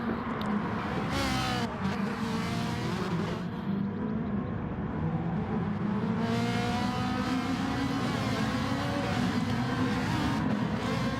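Race cars roar around a circuit in a racing video game, engines droning and shifting pitch as they accelerate past one another, a continuous loud dense whine of several cars together.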